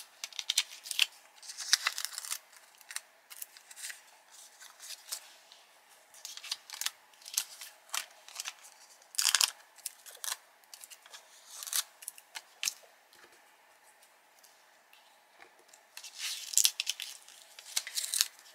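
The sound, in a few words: peeling bits of tape off cardstock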